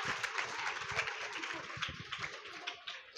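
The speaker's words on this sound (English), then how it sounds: "Give them a huge round of applause." An audience claps at a school Independence Day celebration, with a dense patter of many hands that is fairly soft and distant and continues steadily for a few seconds.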